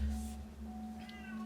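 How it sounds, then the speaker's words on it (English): A pet cat meows indoors, giving one short drawn-out meow followed by a second brief higher call, fairly close and quiet over a low steady hum. "Just be fine and stop meowing."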